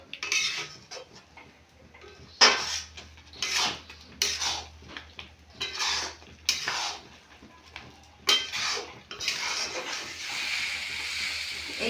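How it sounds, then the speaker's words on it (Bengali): Rice dough being stirred and pressed in a pan for Bengali rice naru, with irregular scraping and clinking bursts of a utensil against the pan, close and moderately loud, over a low steady hum. "এইভাবে নেড়ে চেড়ে একটা ডো তৈরি করে নেব।"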